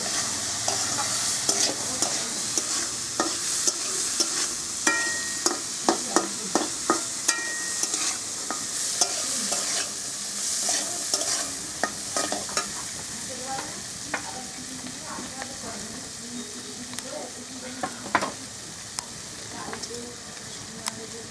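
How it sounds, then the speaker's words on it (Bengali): Hyacinth bean seeds sizzle as they fry in a pan with a little salt, while a spoon scrapes and stirs them in a run of sharp, rhythmic knocks that thins out toward the end. "এবারে খুব ভালোভাবে নাড়াচাড়া করবো করে ভেজে নেব"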